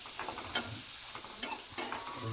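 Manchow soup being stirred in a pan over heat, a utensil scraping and clinking in a few distinct strokes over a steady low sizzle, close and alone with no voices.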